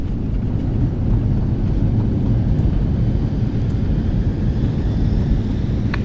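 Airliner plunging in flight during an emergency: a continuous dense low roar of engines and rushing air fills the cabin, steady and loud, with no voices.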